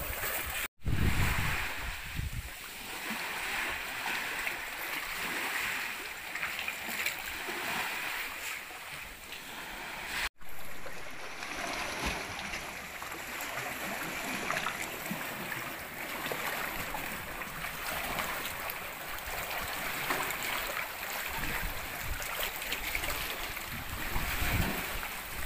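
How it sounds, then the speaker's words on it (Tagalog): Sea waves surge and wash steadily with heavy wind buffeting the microphone, a continuous loud rushing with a couple of brief dropouts. "Lumakas ng alon."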